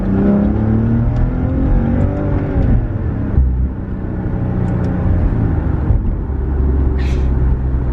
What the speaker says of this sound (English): 3rd gear, beautiful downshift. 2nd gear, great downshift. And then give it a little gas here.